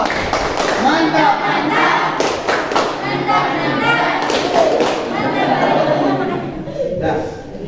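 A classroom of students clap together in a short patterned 'tepuk mantap' cheer, a burst of overlapping claps and thumps mixed with voices and light chatter, fairly close and loud.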